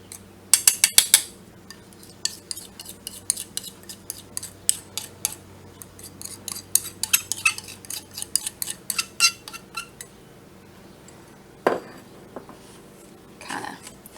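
Dried chicken stock flakes sprinkled back onto a dehydrator tray, a run of crisp tapping and rattling clicks near the mic, clustered in bursts with short pauses and a louder clatter toward the end.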